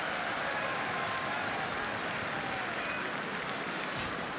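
Distant, steady crowd applause and murmur fills a football stadium during FC Groningen versus ADO Den Haag, faint and continuous without clear individual claps.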